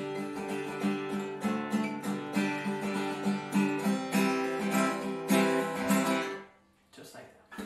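An acoustic guitar strums chords, including C, in a steady rhythmic pattern of down and up strokes, ringing out and then stopping near the end.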